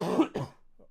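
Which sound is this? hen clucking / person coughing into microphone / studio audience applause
person coughing into microphone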